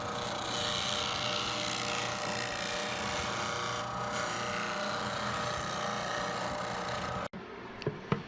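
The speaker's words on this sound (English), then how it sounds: "Here we used a disc sander to try to sand as carefully as possible right up to the exact" A disc sander grinds steadily against a wooden box piece of wenge or birdseye maple. The rasping whir holds constant for about seven seconds, then cuts out, leaving a couple of faint knocks.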